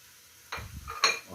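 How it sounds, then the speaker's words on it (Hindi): Carrots and capsicum tipped into a pan for chicken manchurian fried rice, giving two quick bursts of clattering and a brief hiss over a quiet background. "अब यहाँ मैं डालूँगी इसमें ये सब्जियाँ,"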